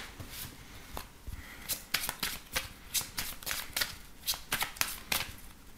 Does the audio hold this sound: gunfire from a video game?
no